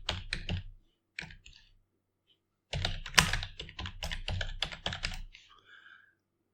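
Fast typing on a computer keyboard in a Linux text editor, with bursts of close, crisp key clicks separated by short pauses and ending in a few lighter taps.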